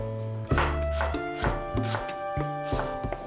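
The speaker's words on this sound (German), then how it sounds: "Zuerst schneide ich eine rote Zwiebel in kleine Würfel." A knife chops red onion into small cubes on a cutting board in quick, regular taps, heard over soft background music.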